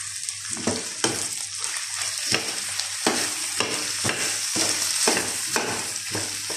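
Potatoes and corned beef fry in a pan with a little oil, a steady sizzle broken by regular scraping strokes of a stirring utensil, close and alone.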